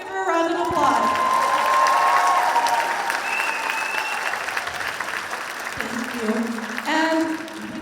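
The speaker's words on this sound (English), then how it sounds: "So let's give her a round of applause." An audience at a university Persian students' cultural show claps for the show's director, steady applause filling the room with a few tonal sounds and faint voices mixed in, swelling briefly near the end.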